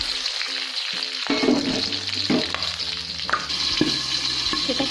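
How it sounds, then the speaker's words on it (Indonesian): Garlic, chili, tomato and candlenut frying in a pan for Sundanese nasi liwet, a steady close sizzle with intermittent stirring scrapes and small pops throughout, no talking. "Kita goreng dulu ya sebentar."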